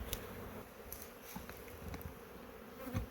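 Bees hum in a soft, continuous drone around an open hive during an inspection, faint and steady with occasional light knocks and no talking.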